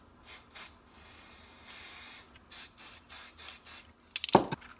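Black-tinted epoxy squirted from a bottle onto a horn button emblem, a series of short hissing sprays that repeat in quick bursts with brief pauses, ending in a louder clattering handling noise.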